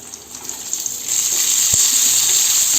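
Spice tempering for paneer do pyaza sizzles steadily in a hot pan, a bright hiss that swells louder after the first second and holds, with one soft knock partway through.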